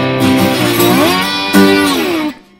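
Electric guitar playing the chorus riff of a rock song, a short loud phrase of notes sliding up the neck and back down, close and unaccompanied.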